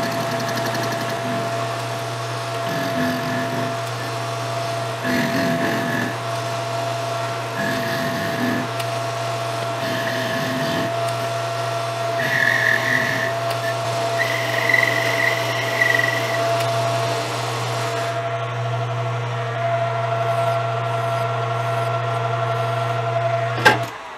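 Machining a stack of washers mounted on an arbor for an Aermacchi motorcycle shifter and brake: a steady machine drone with repeated short bursts of cutting noise, fairly close, with no talking.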